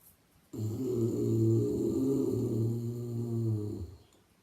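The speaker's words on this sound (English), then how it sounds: "we inhale with a snorting sound" A single long, rasping snort-like inhale drawn through the throat, droning steadily for about three seconds before stopping, close and fairly loud.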